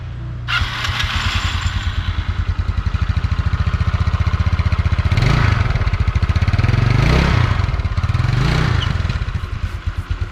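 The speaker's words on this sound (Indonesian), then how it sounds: "Langsung aja yuk kita cold start." A Yamaha Mio scooter engine from before 2005 cold-starts and settles into a steady, loud putter, with a few rises in revs partway through, close by.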